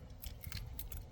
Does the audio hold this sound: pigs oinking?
no